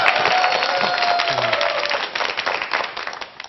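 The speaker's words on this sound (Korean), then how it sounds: "그럼 제가 박수 나와라 뚝딱 하면 박수 나오는지 한번 볼게요" A lecture audience breaks into applause on cue: a brief voice at the start, then a dense, steady wash of many hands clapping that fades slightly at the end.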